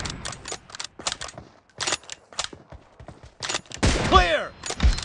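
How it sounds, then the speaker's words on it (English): Sharp, close clicks and clacks of weapon handling come in quick clusters in the BGMI (PUBG) mobile shooter, mixed with gunfire bursts and short game voice callouts. "Reloading!"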